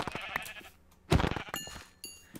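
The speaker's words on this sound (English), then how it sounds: "So I'm going to kill these sheep so I can cook up some mutton." Sheep in the Minecraft video game give a few short, nearby bleats, one loud and sharp in the middle, mixed with small game effect sounds and no talking.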